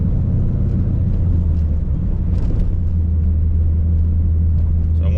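A 4th-generation Camaro drives along with a steady, loud low rumble and drone from the rear end or driveshaft, continuous throughout with no talking.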